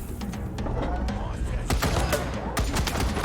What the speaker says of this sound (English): Our turret's getting shot, but that's fine for now.